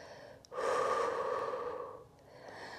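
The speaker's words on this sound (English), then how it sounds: "Breathing in through the nose, filling the back of the rib cage, and slowly breathing out through the mouth." A slow, steady breath during a calm workout cooldown, a long airy exhale lasting over a second, close and soft, with quieter breathing before and after.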